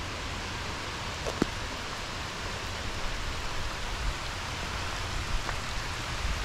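Rain falls steadily during a downpour while someone is out fishing, a constant broadband patter and hiss of drops on surfaces close around, with a few faint knocks.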